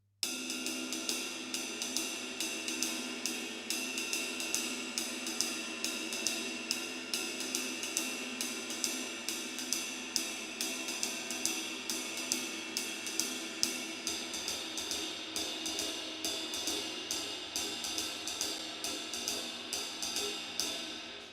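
A steady swung ride cymbal pattern, bright and shimmering, with evenly spaced strokes and a light low drum pulse underneath, played alone without voices.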